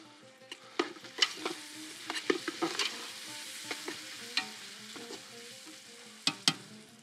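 Chopped tomatoes fry and get stirred in a pan over a wood fire: a steady close sizzle broken by repeated sharp scrapes and clacks of the spoon, with a burst of quick stirring strokes near the end.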